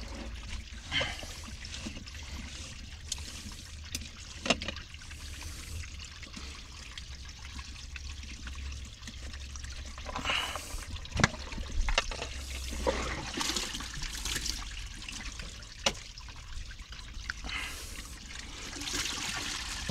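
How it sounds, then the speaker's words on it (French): Water trickles and drains out of an emptied Intex cartridge filter pump from an above-ground tubular pool being winterized, a quiet irregular dribbling with occasional louder gurgles and splashes, close by and without talk. "On vide bien la pompe."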